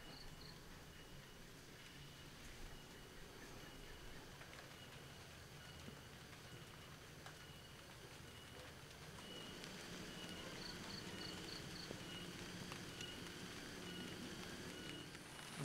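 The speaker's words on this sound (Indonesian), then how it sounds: "Ditemenin hujan." Rain falls on a nature resort in Bandung as a soft, constant hiss blended with chirping insects, faint and unbroken throughout.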